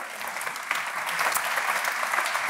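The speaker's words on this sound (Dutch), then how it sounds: "Alvast een applaus." A lecture audience in Rotterdam applauds as a panel takes the stage, a dense, steady wash of many hands clapping that swells slightly partway through.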